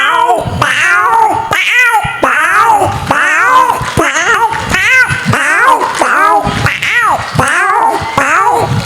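A human voice imitates several cats meowing and caterwauling at once, a dense run of overlapping wavering meows filling the whole stretch, loud and close.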